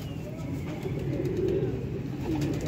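Old Vaishi pigeons kept in a loft coo in low, overlapping murmurs close by, forming a steady soft rumble with no pauses.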